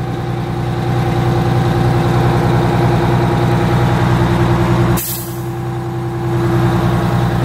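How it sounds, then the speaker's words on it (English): A fire truck's Detroit engine idles loudly and steadily close by, broken once by a sudden sharp hiss of air brakes before the rumble continues. "It does have air brakes."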